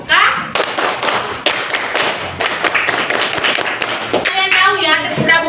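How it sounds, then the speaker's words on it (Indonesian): Children in a primary school class perform the Indonesian scout clap, tepuk pramuka: a loud, rhythmic run of sharp hand claps in quick groups, with young voices chanting along and a few thumps mixed in. "Pramuka memiliki tepuk tangan yang khas. Tepuk disebut tepuk pramuka."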